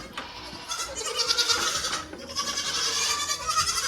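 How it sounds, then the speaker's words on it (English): Baby goats bleat repeatedly in high, wavering cries close by on a sheep and goat farm, several calls overlapping with no talk. "Baby goats."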